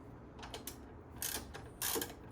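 Ratchet tightening the rear brake caliper bolts on a 2011 Kawasaki Vulcan Vaquero during a brake pad change: several quick ratcheting bursts, close up, with longer clicking runs toward the end.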